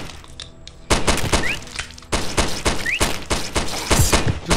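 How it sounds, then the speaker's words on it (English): Automatic gunfire in the horror shooter Primal Fears, set in a hospital: two loud, close rapid-fire bursts of dense cracking shots separated by a short pause. "Stop shooting automatically."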